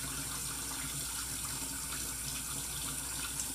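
Water runs steadily from a bathroom tap into a sink during a shave, a constant close hiss and splash that stays even from start to finish, with no one speaking.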